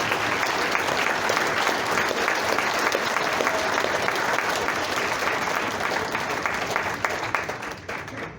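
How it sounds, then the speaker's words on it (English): Sustained applause from an audience at a high school alumni association event honoring an inducted family, a dense, even roar of clapping that thins out toward the end. "give these guys a round of applause"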